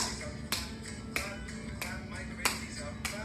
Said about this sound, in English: I gotta Clap. Loud claps.